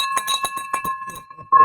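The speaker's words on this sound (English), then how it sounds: "ring the bell." A bell rung to celebrate a sale rings out in a quick run of bright metallic strikes that leave a sustained ringing tone, then fades out as talk resumes.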